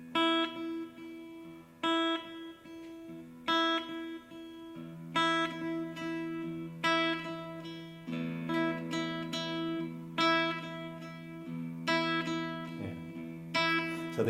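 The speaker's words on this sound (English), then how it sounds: "let's play this pattern, but let's really accent the ring finger" Fingerstyle guitar picking a repeating tremolo-style pattern with the ring finger strongly accented, bright plucked notes ringing clearly in a steady rhythm with regular louder attacks, played alone.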